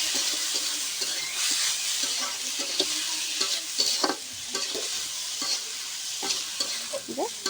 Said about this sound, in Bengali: এবার আমি কুচোয় রাখা সেই উস্তে আর আলুটা দিয়ে দেব। দিয়ে ভালো করে নেড়ে নেব।